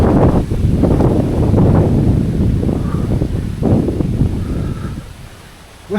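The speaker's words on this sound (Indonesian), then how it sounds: "Anginnya kencang banget." Strong gusts of wind buffet the microphone with loud, rumbling roars beside a cornfield in a remote forest village, easing off briefly and then returning.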